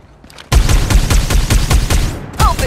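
Gunfire in the video game Farlight 84: a loud burst of rapid, evenly spaced shots begins after a quiet moment, pauses briefly near the end, then resumes with a few electronic chirps.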